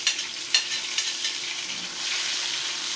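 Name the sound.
onion, garlic and pimento frying in oil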